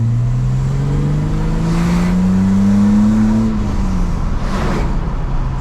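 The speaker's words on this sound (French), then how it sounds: "t'as vraiment le bruit BM mythique du 6 cylindres qui est ouf" BMW E30 325i with its 171 hp straight-six, revving steadily while driving: a loud, continuous engine note whose pitch climbs smoothly, eases off, then settles, with no talk over it.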